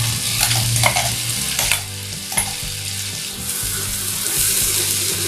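Ground poha and pea masala fries in Amul butter and oil. A loud, steady sizzle continues throughout, broken by scraping stirs of a spoon in the pan.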